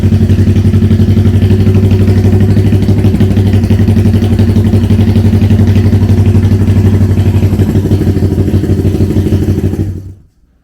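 A 1971 Honda CL350 Scrambler motorcycle cold-starts and settles into a loud, close, steady idle with a throbbing low rumble and mechanical clatter, then cuts off abruptly near the end.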